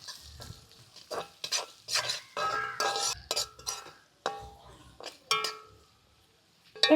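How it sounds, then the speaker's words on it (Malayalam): Sliced onions and green chillies are sautéed in oil: a series of scraping stirs and clinks of a spoon against the pan come in uneven bursts over a soft sizzle, with quiet gaps between strokes. "എന്നിട്ട് നമുക്കൊന്ന് വഴറ്റി കൊടുക്കാം"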